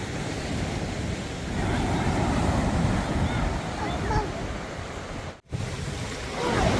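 Surf rumbles continuously at Laniakea Beach on Hawaii's North Shore, a loud, dense wash of ocean waves with wind buffeting the microphone and a brief dropout near the end.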